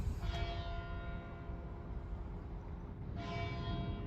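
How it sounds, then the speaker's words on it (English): Church bells ring at St. Elfin's Church during a bell-ringing practice, a steady, moderately distant peal of overlapping tones with a low background rumble. "I've got a feeling they're practicing bell ringing."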